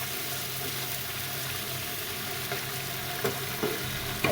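Fish bhuna cooking with raw onion in a pan, giving a steady, soft frying sizzle at close range, with a few light stirring clinks near the end and no talking.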